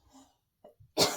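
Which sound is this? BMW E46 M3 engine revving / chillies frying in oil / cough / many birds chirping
cough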